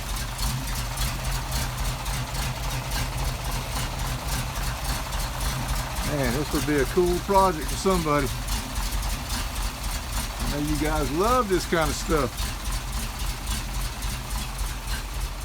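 A 1971 Ford F700 pumper fire truck engine idles steadily with a low, even rumble, while someone talks over it in two short stretches.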